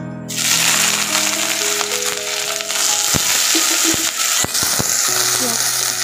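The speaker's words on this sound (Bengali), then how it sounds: "পেঁয়াজ কুচিগুলো দিয়ে দিলাম, খুব ভালো করে ভেজে নেবো পেঁয়াজগুলো।" Chopped onions hit hot oil in a wok for a banana flower chop and erupt into a loud, close sizzle, with metallic clinks and scraping as they are stirred, and a brief tone near the end.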